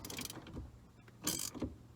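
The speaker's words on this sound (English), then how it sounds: "Go ahead and loosen this steering nut." Ratchet clicks and metallic mechanism noises as a socket wrench loosens the tight steering wheel nut on a Chevrolet Silverado truck, close and moderately loud with short bursts of activity and pauses.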